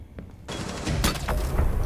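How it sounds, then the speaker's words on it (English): A pistol fires in a video game, heard as a dense, rapid cluster of sharp gunshot cracks over a loud, booming background of game action, with no clear pause between shots. "Gray is using his pistol"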